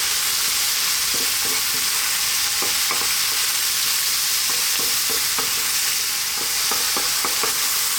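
Black olives and mushrooms frying in a hot pan with black pepper and oregano, a steady close sizzle broken by light stirring scrapes and taps.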